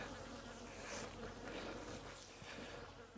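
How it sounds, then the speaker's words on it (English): Steady buzzing of many honeybees close by, a dense continuous hum with no voices, as bees are added to a split hive. "so I'll go grab some bees"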